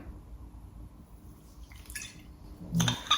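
Orange blossom water poured from a bottle: quiet near-silence, then a few faint drips followed by a short, louder splashing pour at the end, no voices.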